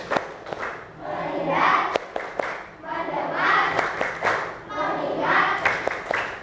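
A school class claps and chants together in a classroom, with rhythmic group claps punctuating three swelling bursts of children's voices.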